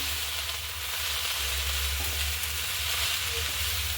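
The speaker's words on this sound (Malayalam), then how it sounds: "മുകളിലുള്ള ചീരയൊക്കെ അടിയിലേക്ക് പോകാൻ കണക്കാക്കി ഇളക്കണം" Spinach with grated coconut sizzles steadily in a hot pan, giving a continuous close frying hiss with soft scraping as the greens are stirred and turned over.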